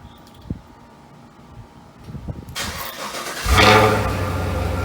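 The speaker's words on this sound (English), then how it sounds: "That is a stock exhaust cold start." A Camaro SS with stock exhaust cranks on a cold start and fires into a loud, throaty exhaust roar, then settles into a steady rumbling idle.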